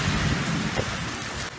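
Heavy rain pours down during a storm with flooding in Las Vegas, making a dense, continuous hiss and rumble that is close and fairly loud, with no speech.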